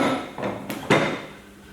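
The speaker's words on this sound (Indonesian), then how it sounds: "Ini alatnya palu, peralatannya palu." A hammer used as a tool for earth grounding measurement being handled, giving a few short metallic knocks and clinks, close and fairly loud, with brief ringing between them.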